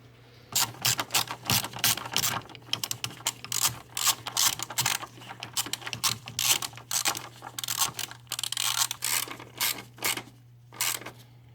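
A hand ratchet clicks in short bursts of rapid pawl clicks with brief pauses between them. It is tightening nuts on an Audi 2.0 engine during a water pump replacement, close up and with no talk.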